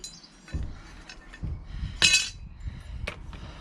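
A 14mm metal bolt taken from a Power Devil PDG4350P petrol mower's recoil mechanism is dropped into a box. It gives a bright clink amid soft handling knocks, close and brief, with no talk.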